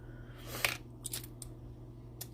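Scissors snip through a small plastic cup to trim it down, a few quiet crisp cuts in close succession over a low steady hum.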